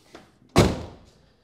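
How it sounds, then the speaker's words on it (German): A car door on a Mercedes SL R107 roadster swings shut with one solid, loud thunk that decays over half a second, preceded by a faint click. "Ich mache mal nochmal die Tür zu."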